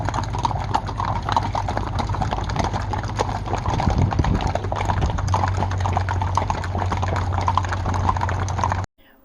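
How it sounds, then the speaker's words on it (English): Horses' hooves clip-clop steadily on pavement during a cowboy honor ride, a dense, continuous patter of many overlapping hoofbeats from a group passing fairly close, with a low steady rumble underneath. "in a cowboy honor ride celebrating the life of Officer Carrasco Jr."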